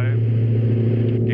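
Twin engines of a DA42 training aircraft at takeoff power, a loud steady droning hum heard from the cockpit, with a voice speaking over it.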